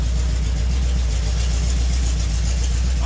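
A Mopar 440 big block V8 idles steadily as it warms up, fitted with an AlloyWorks radiator, a loud, deep continuous rumble up close with no talking.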